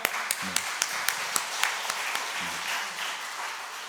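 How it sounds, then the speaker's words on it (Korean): Steady applause from a room of people at a church small-group leadership training session, a dense wash of clapping with a few sharper individual claps standing out. "격려의 박수와 함께. 박수 한번 쳐보실까요?"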